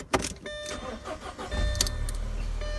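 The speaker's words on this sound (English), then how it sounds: "So I'm gonna start the car" A 2007 Audi A4 2.0T is started after a fuse repair. The starter cranks briefly, the engine catches and then settles into a steady, fairly loud low idle with no talk over it.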